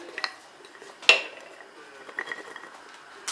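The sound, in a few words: new lid placed on pickle jar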